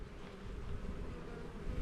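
Wild bees buzz steadily around a swarm trap outdoors, a faint continuous drone with no pauses.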